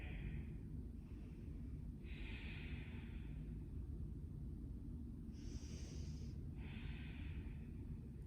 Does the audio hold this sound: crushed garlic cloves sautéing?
no